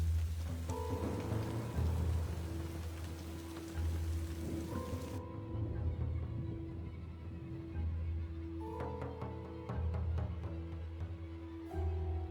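Steady rain in a video game pours down with low rumbling underneath, the patter continuous throughout and occasional brighter tonal blips over the wash.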